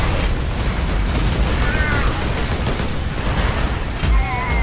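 Pistol shots in the Space Marine multiplayer game ring out amid a constant loud roar of battle noise, explosions and gunfire blending together.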